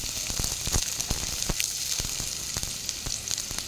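Mustard seeds sizzle and pop in hot oil while tempering for sambar, a soft continuous frying hiss broken by many sharp little crackles scattered irregularly throughout.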